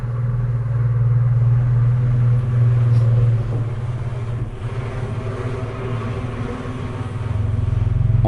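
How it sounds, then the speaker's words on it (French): A tractor passes outside an abandoned manor, a steady low engine rumble heard from indoors that swells and fades over several seconds, with no voices. "En ce moment même, un tracteur passe"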